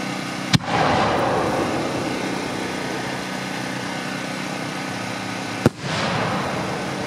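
Two 8-inch Young Fang firework shells burst at a pyrotechnics demo, each a sharp loud crack followed by a long crackling, rumbling tail, the second blast about five seconds after the first.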